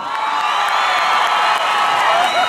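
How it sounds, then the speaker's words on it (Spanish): A large crowd cheers and claps continuously, a loud, dense wash of shouts and whoops with applause mixed in, steady throughout. "¡El aplauso para Gordita!"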